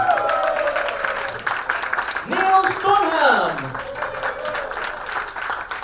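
An audience at a professional speakers' convention applauds steadily while a presenter calls out names over a microphone, his voice riding on top of the clapping.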